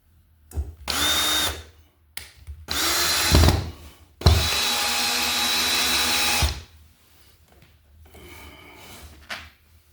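Power drill re-drilling a ground hole while adding outlets with Wiremold surface raceway, running in three close, loud bursts of roughly one to two seconds each, with quieter handling noise between and after.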